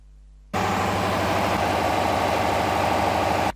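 An internal combustion engine on a test bench for an air-fuel ratio experiment starts abruptly into a loud, steady running drone with a dense low rumble, holding constant for about three seconds before it cuts off.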